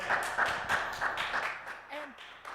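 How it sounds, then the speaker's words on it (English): An audience claps at a student presidential debate, producing a quick run of sharp hand claps in an even rhythm over a room full of talking voices. "try to refrain from clapping, please"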